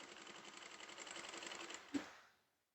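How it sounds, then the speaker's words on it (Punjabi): A sewing machine runs steadily, stitching lace onto the edge of a chunni scarf with a continuous whirring hum, then stops with a small click and fades out. No one speaks. "ਕੰਨੀ ਤੇ ਆਪਾਂ ਸਲਾਈ ਲਾਉਣੀ ਆ"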